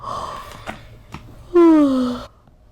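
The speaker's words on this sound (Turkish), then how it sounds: "Çünkü Esneme sesleri geliyor." A yawn from a very sleepy person lying in bed, a long, loud, falling voiced exhale heard alone, after some quieter breathy sounds and faint clicks.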